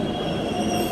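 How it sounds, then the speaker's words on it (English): Wheels of a New York City subway 7 train squeal loudly and steadily in a high, sustained metallic screech over a continuous rumble of the moving railcar. "So I'm gonna take the 7 train."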